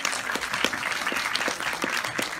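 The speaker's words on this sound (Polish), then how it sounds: "No tutaj też mogą być oklaski." An indoor audience at an educational film screening claps steadily, a dense, even wash of applause at moderate volume that carries on throughout without speech.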